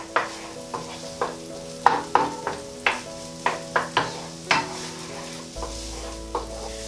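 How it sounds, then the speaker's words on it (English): Onion, garlic and red pepper sauteing in a saucepan, with a soft steady sizzle under repeated sharp scrapes and knocks of a utensil stirring against the pan in an irregular rhythm. "So that's the onion, garlic and red pepper. And start sauteing those straight away."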